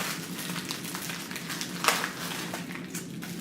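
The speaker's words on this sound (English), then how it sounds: "So I'm going to take this out of the pan, out of the plastic." Mrs. Smith's Cinnabon apple crumb pie being taken out of its pan and plastic wrapping, a steady crinkling and rustling of plastic close by with one sharper crackle midway, no talk.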